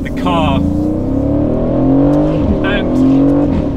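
An Aston Martin Vantage sports car drives the San Bernardino mountain pass, its engine droning steadily up through the revs with a shift midway, close and loud, and a voice talks over it.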